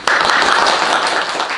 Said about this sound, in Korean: 힘찬 박수와 함께 시작하도록 하겠습니다